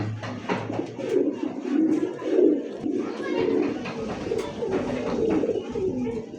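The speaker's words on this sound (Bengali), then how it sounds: "একবারে দেখার মতো একটা জোড়া কবুতর" A pair of pigeons coos in low, repeated throaty phrases close by, with people's voices talking over them.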